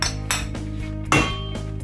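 A utensil stirs a curd cheese mixture with starch and egg in a bowl, giving repeated bright clinks and scrapes against the bowl's side in an uneven rhythm, close and fairly loud.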